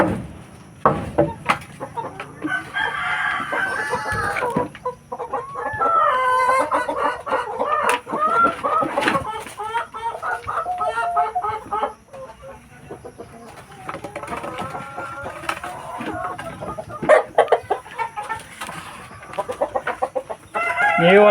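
Black Australorp chickens on a backyard free-range farm cluck and squawk in repeated calls, with a rooster crow among them, close and fairly loud, and someone talks at times.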